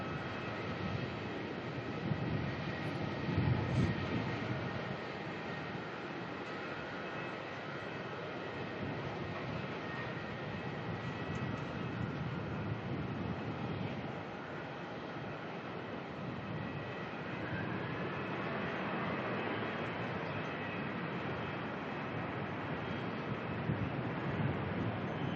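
A Velocity airliner departing Melbourne airport gives a low, steady engine rumble from a distance, continuous and fairly faint throughout with slight swells and no talk.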